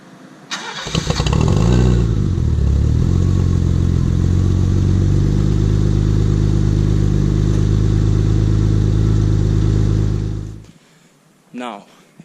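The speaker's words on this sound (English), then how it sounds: "So it does sound pretty good upon startup and driving." A BMW E30 318i with a Remus exhaust and stainless steel piping cranks briefly, then fires up and settles into a loud, steady idle with a deep rumble that runs close to the microphone for several seconds before cutting off.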